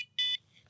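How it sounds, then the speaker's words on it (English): A Prologic C-Series Pro fishing bite alarm gives one short, bright electronic beep, a steady tone lasting a fraction of a second, heard close and alone. "if I beep one of the alarms"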